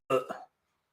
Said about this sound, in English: That's a healthy cough.